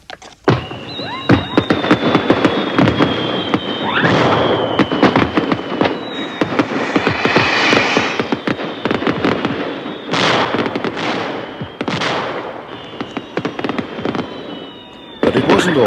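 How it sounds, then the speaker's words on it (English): Dense crackling bursts of fireworks and firecrackers pop continuously and loudly, with sharp bangs and a whistling rocket sound rising over the clatter. "small skyrockets and firecrackers"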